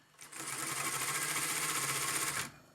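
A sewing machine runs a seam on a bespoke tailored jacket sleeve, one smooth continuous burst of rapid stitching lasting about two seconds, close and clear with no talk.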